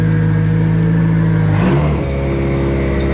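A Nissan S15 engine drones steadily under load, then dips and drops in pitch as it shifts gear before pulling on again, heard from inside the car at close range.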